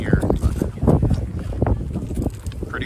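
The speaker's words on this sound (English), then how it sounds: "Pretty windy out here today." Strong wind buffets the microphone outdoors at a precision rifle shooting range, making loud, gusty rumbling throughout while someone speaks over it.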